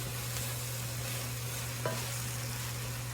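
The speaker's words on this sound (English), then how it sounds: "So I'm gonna just stir just to kind of get everything coated." Eggplant stew stirred in a pot with a spoon: a soft, steady scraping and swishing over a constant low hum, with one brief clink partway through, and no voices.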